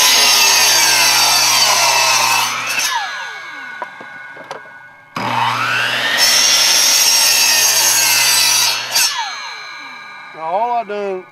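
Hand tool shaving and rasping along the tapered edges of a wooden duck decoy keel, close and loud in long sustained strokes with a pause midway and a few light knocks at the end.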